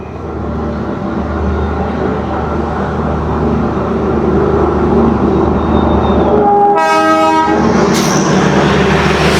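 Darjeeling toy train passing close by, a steady low rumble of wheels and carriages under street ambience, then a loud, bright horn toot rising near the end.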